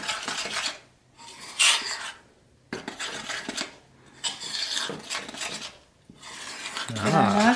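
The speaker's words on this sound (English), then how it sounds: "So I'm going to just break up that egg, and I'm going to stir it well." A utensil stirs egg into lumpy pancake batter in a bowl. Close scraping and rubbing comes in bursts with short quiet gaps, and a brief unclear vocal sound enters at the end.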